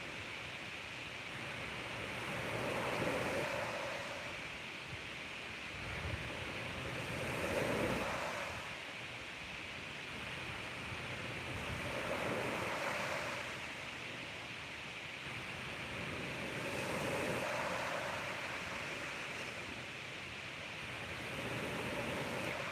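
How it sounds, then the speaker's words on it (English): Ocean waves break on a beach at sunrise, a broad continuous wash of surf that swells and recedes in slow regular surges about every five seconds. No one talks. "Soak in the sounds of those amazing waves."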